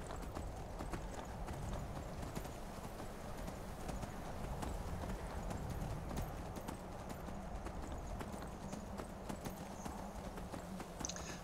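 Horse hooves clip-clop steadily and continuously while riding in Skyrim, a brisk even rhythm of soft thuds over outdoor ambience, with no voices.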